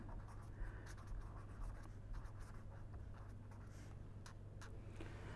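An equation is written by hand during an energy economics lecture, with soft, faint scratching strokes coming in short bursts over a quiet room hum and no voice.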